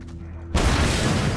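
Fuel cans blow up in the Mad Max video game, a sudden loud blast that cuts in after a quiet moment and roars on as a dense, sustained rumble.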